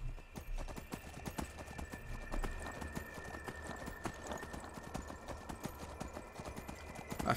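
Horse hooves clip-clop in a steady, rapid rhythm while riding in the video game Skyrim, close and continuous with faint snowdrift wind beneath.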